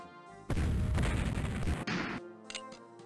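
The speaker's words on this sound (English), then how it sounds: "the artillery duel happening" Artillery fire in the Civil War Generals 2 video game, set at the Battle of Winchester: a sudden loud, dense roar of cannon blasts and booms rumbles for over a second, then fades under a quiet musical background.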